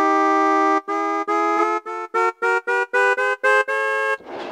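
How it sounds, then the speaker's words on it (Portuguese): A car horn sound effect plays on a Casio CT-X5000 keyboard as a series of loud, close honks, first longer blasts and then quicker short toots, ending in a noisy burst. "Buzina, né?"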